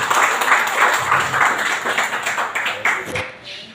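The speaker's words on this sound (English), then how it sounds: "ladies and gentlemen, a round of applause" A round of applause from the audience at a provincial health office turnover ceremony, brief uneven clapping that swells and then fades out over a few seconds.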